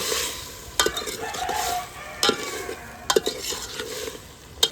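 Onions frying in a pan with salt, stirred now and then, giving a steady sizzle broken by sharp scrapes and clinks of the spoon against the metal.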